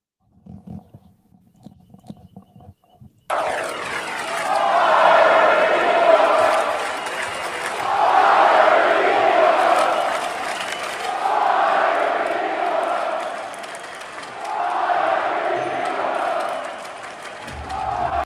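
A 20,000-strong arena crowd at a Spurs–Warriors basketball game chants "Fire Nico" in loud, swelling rhythmic waves, rising and falling several times after a quiet stretch of low talk.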